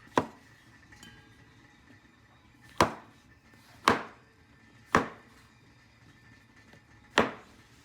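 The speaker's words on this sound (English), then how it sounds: "then I'm going to cut it into cubes" Knife strikes on a cutting board as mushrooms are cut into cubes for chicken with mushroom, five sharp isolated chops at irregular intervals with quieter taps between, close and clear with no talking.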